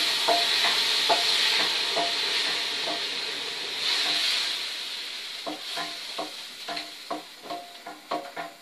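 Milk is added bit by bit to a hot pan of browned burger sauce base, giving a steady sizzle and hiss that softens, then a run of distinct scraping stir strokes in a quick irregular rhythm toward the end, with no talking.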